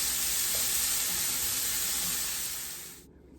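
Vegetables softening in a pan give a steady, close broadband sizzle that holds evenly for about three seconds, then cuts off abruptly.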